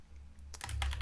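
Quick burst of keys being typed on a computer keyboard, close and clear, rising in density after a brief quiet start with no talking.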